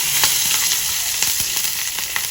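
Green and dried chillies sizzle steadily in hot oil while being tempered for a yogurt eggplant curry, with a dense, close hiss and scattered sharp crackles and pops throughout.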